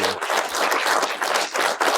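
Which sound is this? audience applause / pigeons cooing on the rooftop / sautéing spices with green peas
audience applause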